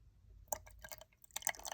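Saline solution is poured into a Navage nasal irrigation container, giving short dripping and splashing liquid sounds in two brief bursts, close and fairly quiet, with no talking.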